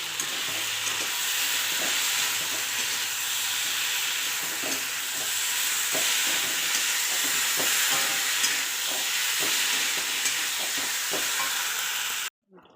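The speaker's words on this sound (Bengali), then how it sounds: "জল দেওয়ার আগে ক্যাপসিকাম দিয়ে জল দিতে হবে। এবার আমি ক্যাপসিকামটা দিই।" Capsicum frying in a Bengali fish curry masala gives a steady, close sizzle with a soft stirring clatter throughout, ending abruptly near the close.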